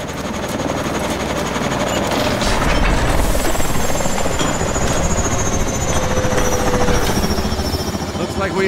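A warbird aircraft in Call of Duty Advanced Warfare gives a loud, relentless rotor-like roar with rapid thumping pulses and a faint whine, while voices are partly masked underneath.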